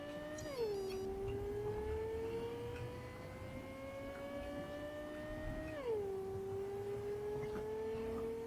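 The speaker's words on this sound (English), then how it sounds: "so we've got in the car. Let's see how fast this goes" A car driven at speed in Cyberpunk 2077 drones with a steady engine tone, which drops sharply twice as the car shifts gears and then climbs again. It is moderately loud and continuous, with no talking.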